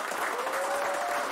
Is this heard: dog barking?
no